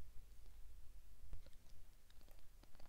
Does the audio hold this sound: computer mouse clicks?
yes